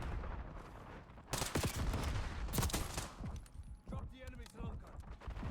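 Rapid gunfire in the Black Ops 6 video game, several loud bursts of shots clustered in the middle with scattered single reports after, over background game noise and some talk.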